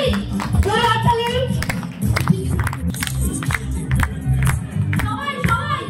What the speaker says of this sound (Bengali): সবাই মিলে জোরে হাততালি